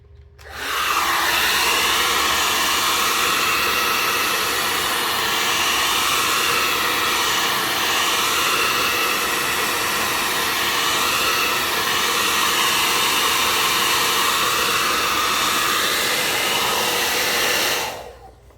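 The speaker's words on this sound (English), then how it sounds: "you can get a hair dryer or compressed air, and we could hit the front and the back." A hair dryer roars steadily at close range for about seventeen seconds, blowing air into a ceramic space heater, switching on and off abruptly with no other sounds.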